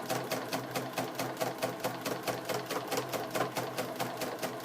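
A sewing machine runs a straight stitch through fabric for a pencil bag, making a steady, rapid mechanical chatter with an even rhythmic pulse. It sounds close and moderately loud and plays alone, with no voices.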